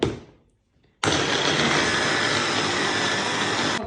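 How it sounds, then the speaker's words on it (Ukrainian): After a brief fading sound and a moment of near silence, a blender switches on abruptly and whirs loudly and steadily at close range, pureeing bananas. "швиденько в блендері наші банани"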